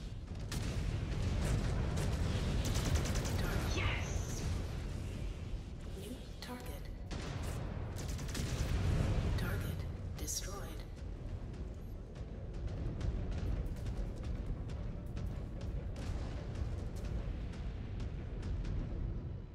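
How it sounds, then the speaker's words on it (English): Explosions in the video game MechWarrior 5: Clans rumble as dense, booming blasts and crackling bursts that rise and fall steadily under a low continuous roar. "Cool, Kids don't look at explosions."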